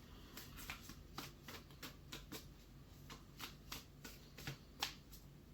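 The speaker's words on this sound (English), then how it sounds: "So give us a nice shuffle." Tarot card deck being shuffled by hand, a soft, close series of riffling flutters and taps repeating in an uneven rhythm, quiet and alone.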